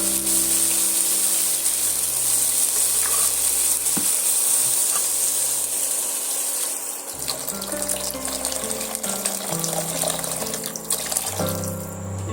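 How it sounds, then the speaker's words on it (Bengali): Water is poured into lentil dal cooking in a pot, making a steady rushing gush that runs for several seconds before settling into softer bubbling and sizzling, with no voices. "এবার আমি পরিমাণ মতন পানি অ্যাড করবো"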